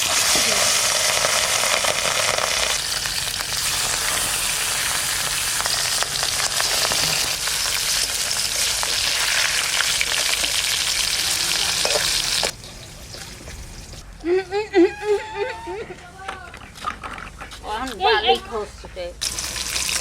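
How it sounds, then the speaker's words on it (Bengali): Steady broadband sizzle of rui fish lightly frying in hot oil fills most of the clip, then drops away to quieter background with a voice speaking briefly near the end. "মাছটা হালকা করে ভাজার জন্য"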